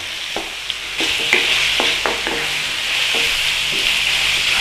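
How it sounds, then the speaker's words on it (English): Lamb mince frying in a pan, a loud continuous sizzle with repeated scraping knocks as the meat is stirred and broken up, close and without talk. "So we get our lamb mince in there. And start breaking it down."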